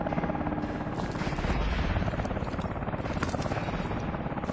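A helicopter in Call of Duty Advanced Warfare thumps with fast, loud rotor chop mixed with bursts of gunfire and battle noise, continuous throughout.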